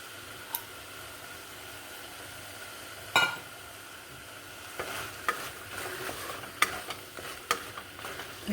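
Mixed vegetables, potato among them, stirred and fried in a pan for mixed veg pulao: a soft, steady sizzle with sharp spatula scrapes and clacks at irregular moments, close by and without voices.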